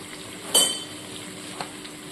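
Egg curry masala sautéing in a pan, a low sizzle with one sharp metallic clink of a spoon against the pan early on and a fainter tap later, close and brief, no voices.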